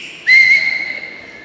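A woman gives a single loud, sustained whistle that holds one clear pitch for about a second, then fades, heard alone without talk.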